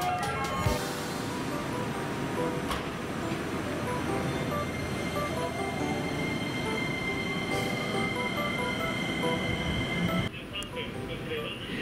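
A train rumbles steadily into Nagai Station on the Hanwa Line, Japan, running late after a signal fault, wheels grinding and squealing faintly over a constant roar, with a sharp change near the end.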